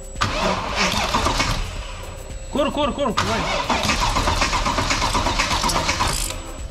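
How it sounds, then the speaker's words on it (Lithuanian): A Mercedes M113 V8 with a bent cylinder-4 connecting rod cranks, starts and keeps running in a garage. The engine is loud and close with a rough, uneven running note, and a couple of voices speak briefly over it. "tas garsas ken. Rodo, kad švaistiklis iškrypęs"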